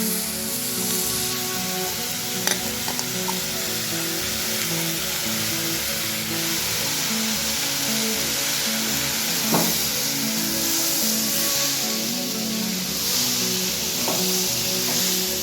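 Drained split peas going into a hot pan with moong dal, a continuous close frying sizzle and crackle with a few brief clicks and scrapes.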